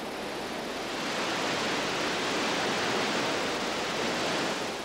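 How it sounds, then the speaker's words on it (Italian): Niagara Falls thunders in a continuous, dense roar of falling water, a steady broadband rush that stays loud and unchanging throughout with no voices. "Un'interminabile cascata rimbomba sul Niagara"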